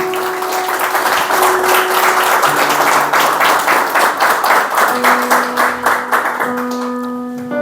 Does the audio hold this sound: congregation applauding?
yes